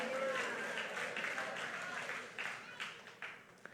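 A church congregation clapping and applauding together, a dense wash of hand claps that thins toward the end, with voices speaking over it.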